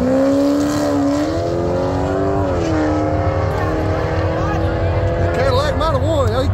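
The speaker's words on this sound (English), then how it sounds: "Listen to that GTO." Pontiac GTO engine on factory exhaust at a drag racing arm-drop event in Jackson, Tennessee, holding a steady loud rumble with revs that climb and waver, while people talk nearby.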